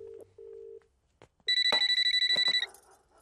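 A telephone rings indoors in a run of rapid electronic trills after a few short tones and clicks, loud and alone with no talk.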